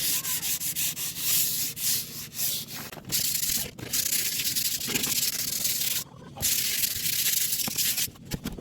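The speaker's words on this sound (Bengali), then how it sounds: "একশো আশি নম্বর স্যান্ড পেপার দিয়ে ঘষে নিচ্ছি" A board is sanded by hand with 180-grit sandpaper before being painted as a chalkboard. Close, rhythmic back-and-forth scratchy strokes repeat steadily, with a few short pauses between passes.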